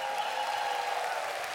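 Studio audience at a German TV garden show applauds for a Cristiano Ronaldo parody act, a steady, even wash of clapping held at moderate distance with no voices over it.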